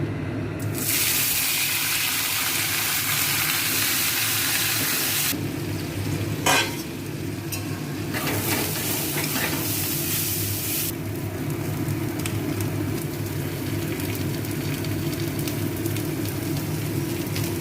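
Sliced potato and ivy gourd (kundri) frying in a pan with a loud, continuous oily sizzle, broken by scraping stirs from a spatula.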